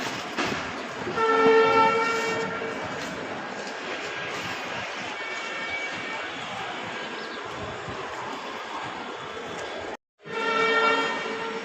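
At Kamalapur railway station in Dhaka, a train rumbles and clatters close by while its horn blares in long tonal blasts at the start and again near the end, with a brief cut just before the final blast.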